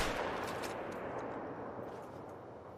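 A rifle shot fired at big game in the hunting game theHunter: Call of the Wild: a loud, close report whose broad rumbling boom decays steadily over about three seconds, with no talk.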